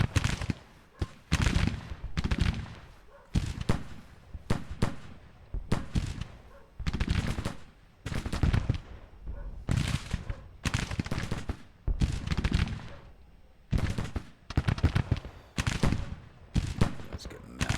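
Artillery batteries fire during a Civil War strategy video game battle at Mississippi City, with bursts of booming, crackling gunfire recurring every second or so across the whole stretch, and occasional talk mixed in.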